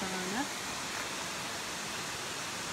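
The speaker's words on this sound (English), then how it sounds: "So here we have another gorgeous waterfall" A gorgeous waterfall heard on a nature walk, a steady broad roaring rush of falling water filling the air, constant and fairly close, with a brief faint whistle-like tone at the start.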